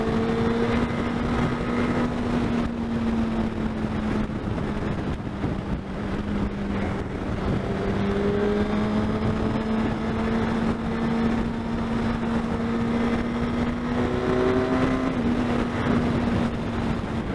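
A motorcycle on a commute runs at highway speed with a steady engine drone under heavy, constant wind buffeting on the microphone, loud and continuous throughout.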